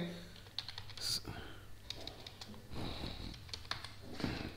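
C code is typed on a computer keyboard in quick, light, irregular key clicks, close and quiet, with soft breathing or murmured speech underneath.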